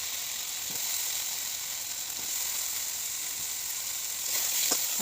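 Potatoes frying in hot oil give a steady, close sizzle and hiss that holds constant throughout, with a few faint clicks and taps over the continuous bubbling.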